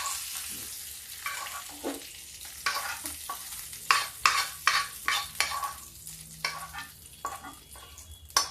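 Cumin, dried red chillies, curry leaves and Kashmiri red chilli crackling and sizzling in hot oil for a dal tempering, with a run of sharp pops and spits over a steady fry, loud and close.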